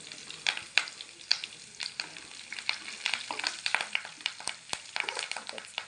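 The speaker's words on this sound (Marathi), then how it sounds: "त्यात थोडासा कडीपत्ता टाकून देऊया" Curry leaves and cumin sizzle in hot oil for homemade pav bhaji, a steady close crackle with sharp spitting pops and brief stirring scrapes.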